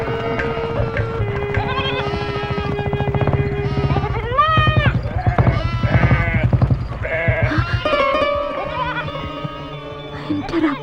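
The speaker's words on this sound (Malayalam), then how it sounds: "ആടുകൾ പോട്ടെ." Goats bleat repeatedly in a rural setting, with loud, close, wavering cries that overlap one another throughout.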